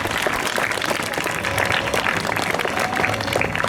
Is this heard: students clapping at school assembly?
yes